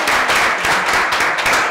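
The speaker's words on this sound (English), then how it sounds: "please give them a round of applause" An audience claps for a team standing at a regional education event, a short burst of loud, close, continuous hand clapping with no speech.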